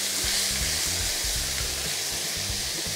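Minced veal sizzles loudly in a pan with browned onion and garlic, a dense, close hiss over a low, irregular rumbling as it is stirred and scraped.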